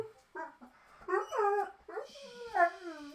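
A needy, sad pet dog whimpers and whines indoors in a quiet room, several high, wavering cries in short bursts, soft and close.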